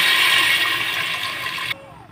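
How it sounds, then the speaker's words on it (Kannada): Water is poured into a pot of ordinary non-basmati rice, a loud, close rushing gush that stops abruptly just before the end. "ಇದಕ್ಕೆ ನೀರು ಹಾಕ್ಕೊಳ್ತೇನೆ"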